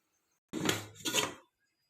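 Cake pan set into a preheated pressure cooker and the lid closed over it, two short clattering metal knocks close by, about half a second apart, with no talk.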